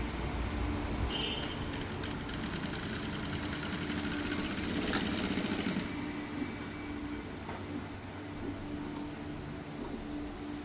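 Sewing machine stitching the lining of a churidar, a steady mechanical whirring that runs loud and continuous, then eases slightly partway through and carries on without talk.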